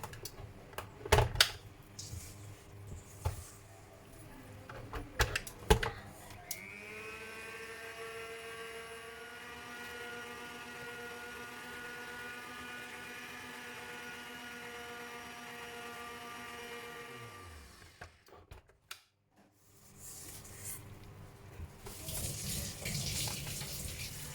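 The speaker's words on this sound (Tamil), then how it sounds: "ஓகே, இதை மெதுவாக கொஞ்ச நேரம் பிளெண்ட் பண்ணுவோம்." A blender whirs steadily for about twelve seconds, mixing almond cake batter at slow speed, a sustained motor hum with harmonic whine that winds down, framed by clattering kitchen handling noises before and after.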